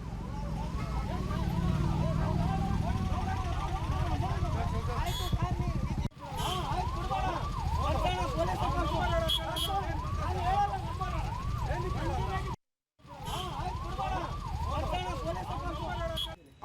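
Ambulance siren wailing continuously in Bengaluru road traffic, loud and close with repeating rising-falling sweeps, broken by two brief cuts, with vehicle noise beneath.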